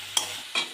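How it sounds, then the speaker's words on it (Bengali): Pumpkin frying in a pan with chopped tomato and grated ginger, two short stirring scrapes over a soft, steady sizzle. "আরও একটু ভেজে নেব।"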